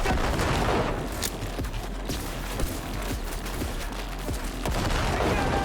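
A grenade blast and gunfire in the video game Cyberpunk 2077. Dense, continuous shooting runs throughout, and a few sharper bursts and booms stand out from the steady rattle.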